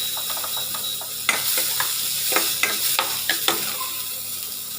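Raisins frying in hot oil for fish biryani, a steady close sizzle broken by several sharp scraping clicks of a spoon stirring in the pan, with no talking.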